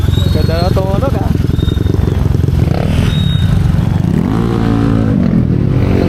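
A motorcycle engine close by, revving with rising and falling pitch sweeps over a rough, pulsing idle in a street setting, with people talking over it.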